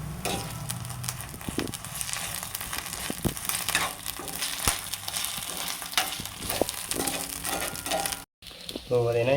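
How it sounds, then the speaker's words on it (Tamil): Ginger garlic paste sizzles and fries in a pan while being stirred, a steady crackling hiss with scraping strokes throughout, briefly cutting out near the end. "இஞ்சி பூண்டு பேஸ்ட் வந்து ஆட் பண்ணிவிட்டு அதை நல்லா மிக்ஸ் பண்ணிவிடுவோம்"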